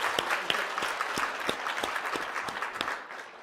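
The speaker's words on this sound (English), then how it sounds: "We get a round of applause for Professor Martin." An audience at a conference talk claps warmly, a dense burst of many hands heard close, holding steady for a few seconds before tapering off at the end.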